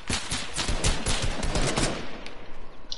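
Dense, loud bursts of rapid automatic gunfire from a Fortnite match, continuous crackling volleys for a few seconds with no voices.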